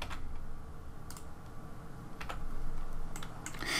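Fingers tap out a short entry on a computer keyboard in 3D modelling software, a few quiet, close key clicks spaced irregularly over a faint steady room hiss, with no talking.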